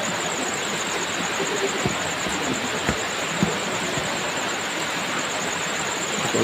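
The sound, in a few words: heavy rain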